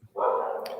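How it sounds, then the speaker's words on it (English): One short, close dog bark, a quick tonal yelp lasting under a second. "My dogs got excited. I don't know if you could hear him barking."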